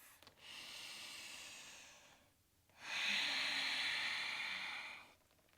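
Slow, deep yoga breathing, close and quiet: a long airy exhale or inhale, a short pause, then a second, stronger breath, each with a soft hissing quality.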